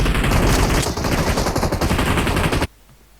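Rapid automatic gunfire from a weapon in the mobile battle royale game PUBG Mobile, loud and continuous for over two seconds before cutting off abruptly into near silence.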